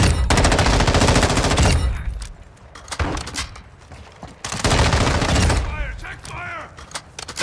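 Automatic gunfire in a video game rattles in loud, sustained bursts, breaking off briefly before resuming. Other tonal game sounds rise underneath near the end.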